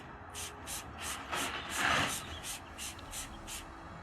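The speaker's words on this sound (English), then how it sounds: "that's how I fly spray a horse that doesn't like being fly sprayed" A fly spray bottle hisses in a series of short, rhythmic squirts onto a horse, close by, with a louder rushing burst midway and faint breathing in the background.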